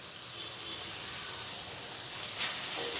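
Masala with roasted cashew powder sizzles softly as it is sautéed for an onion- and garlic-free potato dum, a steady, quiet frying crackle that swells slightly near the end.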